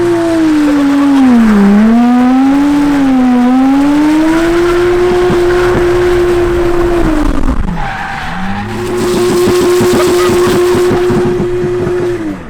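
Tyres squeal in a loud, sustained screech as a car does a burnout at a drift day. The engine roars close by, the pitch wavers throughout, and the sound dips briefly before surging again.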